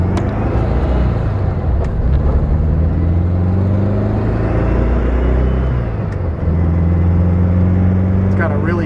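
A 1962 VW Beetle ragtop with a late-model air-cooled 1600 engine drives along, its engine note droning loudly and rising and falling through gear changes under the steady rumble of the road.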